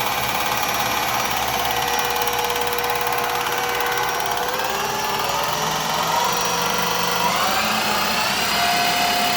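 A Clausing Colchester 13 x 30 engine lathe running steadily at 2,000 RPM, a continuous loud mechanical hum and whine with a shift in tone partway through and no talking.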